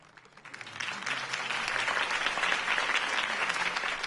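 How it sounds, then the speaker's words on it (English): Crowd applause following a campaign speech in the Batman Telltale Series game, a steady wash of clapping that swells quickly and holds at a moderate level throughout. "If only Mr. Wayne, my campaign's largest backer, could have heard that applause"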